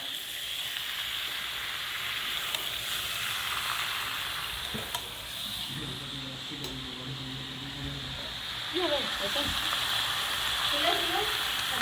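Onion, garlic and ginger fry in a pan for a village chicken recipe, a continuous close sizzle with stirring scrapes, while someone speaks over it midway and toward the end.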